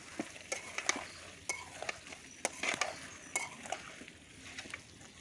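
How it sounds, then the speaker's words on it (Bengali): A fish curry with potato and eggplant is stirred in a pot, giving scattered scraping and clinking strokes of a utensil against metal over a faint simmering hiss, close and moderately quiet. "এখন আমি একটু নাড়িয়ে নেব"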